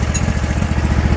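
A spare small engine for a Craftsman Crusher, with a slightly leaking valve cover gasket, runs steadily close by with a fast, even putter.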